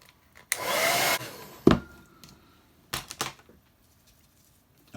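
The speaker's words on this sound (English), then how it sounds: "Right, now we're going to dry these off one more time." A hair dryer blows on watercolour paint on paper in a roughly half-second burst of broadband air noise, followed by a few short clatters and bumps with no talk.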